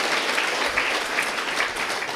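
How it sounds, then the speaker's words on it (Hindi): Applause from an audience at a Brahma Kumaris spiritual class in Nagpur, a steady, dense wash of many hands clapping together at even loudness throughout, with no voices over it. "भाई तालियां तो बजाओ, वाह।"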